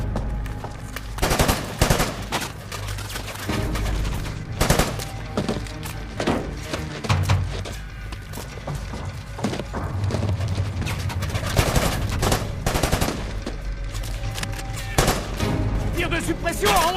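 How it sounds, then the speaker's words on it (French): Bursts of suppressive machine gun fire from a French-language war film rattle almost continuously, loud and dense, mixed with other gunshots and impacts while voices shout orders over the din. "Tir de suppression à 11h."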